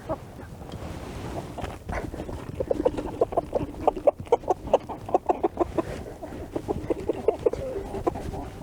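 Chickens cluck in a busy, irregular patter of short clucks from a nearby flock, with a low rumbling background underneath and no talking.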